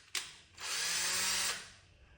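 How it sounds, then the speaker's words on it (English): A power drill drives a long screw through a wooden box into a guitar-style neck: a short tap first, then a steady whirring burst of about one second that winds down, quiet and close. "we are screwing all the way through the box into the neck"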